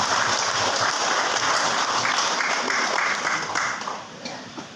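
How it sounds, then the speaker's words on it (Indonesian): A church congregation at a KINGMI synod worship service in Papua applauds in a dense, sustained wash of clapping that fades toward the end, with a voice faintly underneath. "tepuk tangan untuk Tuhan"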